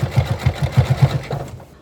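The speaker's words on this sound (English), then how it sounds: "this sewing machine is not liking this" A sewing machine stitches through a quilt-as-you-go Stars & Stripes quilt while joining it with connector strips, giving a quick, even run of mechanical needle thumps for about a second and a half before it stops.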